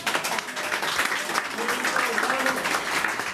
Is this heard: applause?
yes